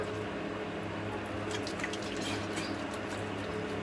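A face is rinsed with water after soap, producing faint splashing and dripping, scattered soft splashes over a quiet, steady background with no speech.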